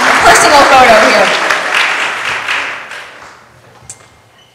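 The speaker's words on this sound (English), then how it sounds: "Come on, round of applause" A round of applause at a school board meeting held at Troost Elementary, loud and dense with voices mixed in, then fading into quiet with a few scattered claps at the end.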